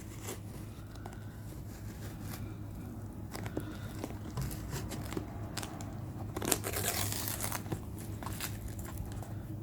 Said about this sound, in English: it slices through the cardboard and tape like butter